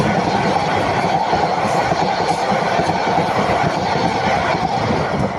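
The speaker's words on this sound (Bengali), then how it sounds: "বাবা, বিশাল বড় ট্রেন।" A large train rolls past steadily on the line, giving a loud continuous rumble with faint wheel clatter and no break for the whole stretch.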